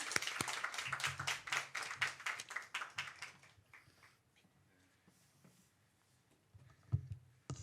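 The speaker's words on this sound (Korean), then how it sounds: "박수로 목사님을 맞이하도록 하겠습니다." A church congregation at a Friday worship service claps to welcome the pastor, a brisk burst of applause that fades out after about three seconds, followed by a quiet room with a few faint taps.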